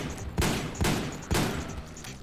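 Three spaced gunshots from a weapon in the video game Metal Gear Online 2, each a sharp loud crack with a short decaying tail, roughly half a second apart.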